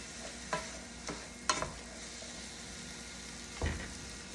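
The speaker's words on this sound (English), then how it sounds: "Alright, so I'm stirring it up, stirring it up, stirring it up." Onions sizzle softly in a pan while a spoon stirs them in a few scattered scrapes and knocks, faint and close, with a low steady hiss between strokes.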